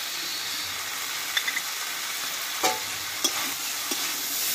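A spoon stirs poppy seed paste with sugar and green chilies in a hot pan, giving a steady low sizzle broken by a few short scraping clicks against the metal.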